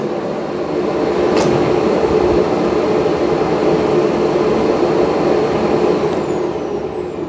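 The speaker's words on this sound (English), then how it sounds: "Here's the auto empty on the X30." Dreame X30 Ultra robot vacuum dock auto-emptying its dust bin, a loud, steady rushing suction roar that holds evenly for several seconds without pause.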